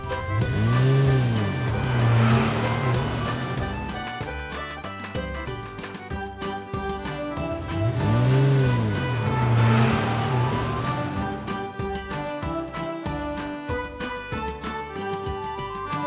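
A vintage car engine revs up twice in rising and falling sweeps, each followed by a rhythmic backing beat, loud and close with no talking.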